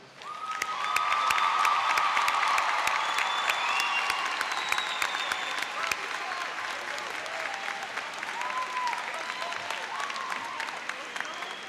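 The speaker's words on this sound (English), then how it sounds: "Students and friends, please join me in a round of applause" An audience at the 2009 Vanguard High School graduation ceremony in Ocala, Florida, gives a sustained round of applause. The dense clapping swells quickly, then holds steady and slowly thins across the whole stretch.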